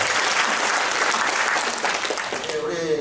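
An audience at a Gyeonggi long-term care policy forum applauds, a dense, even wash of clapping filling the room before it begins to fade at the end.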